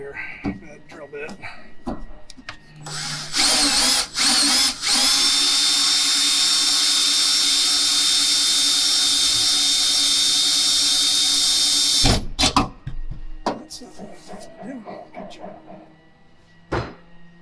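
A power drill with a worn bit bores into the hood of a 2022 Toyota Tacoma. A few short bursts come first, then a long, loud, whining run that stops abruptly, with handling noises and movement around it.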